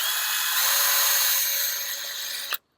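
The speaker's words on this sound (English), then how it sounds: "Putting it on my DeWalt drill, and that's just because this is cordless and my Dremel is not cordless." A cordless DeWalt drill fitted with a sanding wheel whirs loudly in a high steady whine with a rough abrasive edge, easing slightly before it cuts off abruptly.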